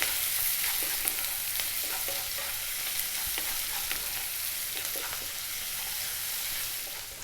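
A cup of sliced onions with salt sizzles steadily in a hot pan for Indian vegetarian cooking. Soft clicks and scrapes of stirring come through, nearby and continuous, with no talking.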